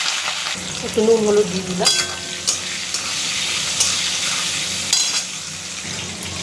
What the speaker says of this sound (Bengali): তেলটা গরম করে নিচ্ছি, আলু আর পটলটাই ভেজে নিচ্ছি।